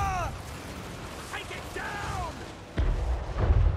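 Cannon tanks firing in the battle video game Total War: Warhammer 3, with a heavy boom landing near the end over busy battlefield noise and whistling projectile sounds.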